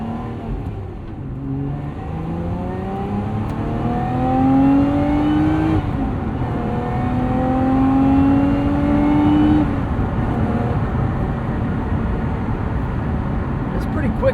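Engine of a 2025 Lotus Emira V6 sports car pulling away and accelerating on a road trip, a steady rising drone with two clear upshift sweeps, heard from inside the cabin at moderate loudness.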